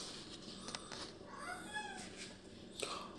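An orange cat meows faintly in a quiet room, with a drawn-out mid-clip meow and a brief cry near the end.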